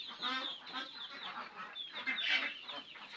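Hens clucking at a village poultry yard, several birds making busy, overlapping clucks and squawks close by, with a loud burst near the end and only faint speech in the background.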